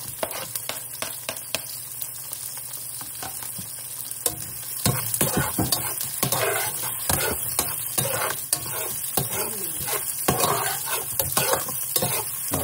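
Onions sautéing in a pan for picadillo, steady sizzling and frying with repeated sharp clacks of a utensil stirring against the pan, close and moderately loud.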